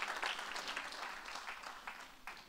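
Church congregation at a youth camp testimony service applauding, faint, dense clapping with scattered louder claps that tapers slightly toward the end.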